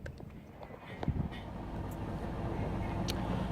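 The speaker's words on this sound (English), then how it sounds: "That's the sound of us running the engine with the fridge compressor." A boat's diesel engine runs alongside a fridge compressor, giving a low, steady droning hum that builds slightly, with a few faint knocks early on.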